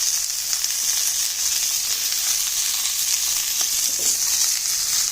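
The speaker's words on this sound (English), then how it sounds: "Okay, the filet browning. 4 to 5 minutes on each side." Loud, continuous sizzle of a thick beef filet steak browning in a hot pan, close and steady, with a few faint crackles and pops.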